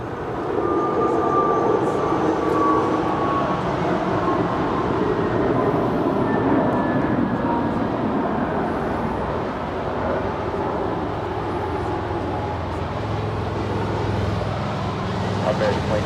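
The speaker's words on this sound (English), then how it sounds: "Our next departure here on the south side is American Airlines Airbus A321neo departing to Phoenix" An American Airlines Airbus A321neo departing LAX produces a steady, broad jet roar at a distance, with voices talking over it throughout.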